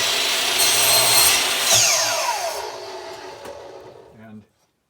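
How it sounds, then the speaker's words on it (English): Power saw cutting the end off a laminated wood blank, a loud close whine and rasp that holds steady, then pitches down as the blade spins down and cuts off abruptly. "So I'm going to cut the end off of it, and then I'm going to cut it to 3 inches."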